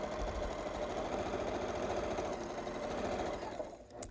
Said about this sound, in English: just let me quickly put this through the sewing machine here